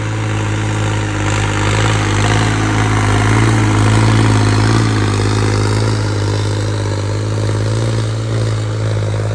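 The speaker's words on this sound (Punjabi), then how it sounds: "ਟਰੈਕਟਰ ਦੂਜੇ ਹਾਈ ਵੀ ਚੰਗੇ ਆਰਪੀਐਮ ਲੈ ਜਾਂਦਾ" A tractor engine runs steadily at constant revs in second gear, a loud, close, continuous low rumbling drone with no voices.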